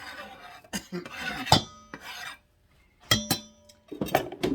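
Minced garlic and ginger scraped into a mixture for Korean fried chicken give short rasping scrapes against a dish, a few separate strokes with brief clinks and pauses between them, close and fairly quiet.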